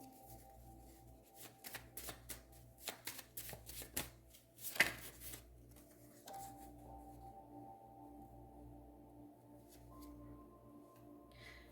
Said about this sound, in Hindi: यहाँ पर लास्ट में एक कृष्णा कार्ड निकाल लेते हैं।